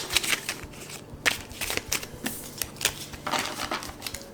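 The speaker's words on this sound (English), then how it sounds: "One more shuffle" Tarot cards are shuffled by hand, giving quiet, crisp riffling and flicking bursts in uneven clusters, close and soft, with no talking.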